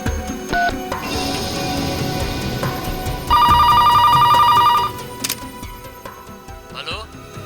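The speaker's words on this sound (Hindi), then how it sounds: "फिल्म स्टार बिंदिया जी को फोन लगाओ" Telephone ringing on an outgoing call, a steady electronic ring tone sounding at moderate volume for a couple of seconds amid a busy indoor scene with background noise and brief beeps.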